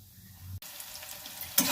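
Cut potatoes tipped into hot oil tempered with dried chillies, bay leaves and mustard seeds, giving a sudden loud sizzle near the end after a quiet stretch and a brief clunk.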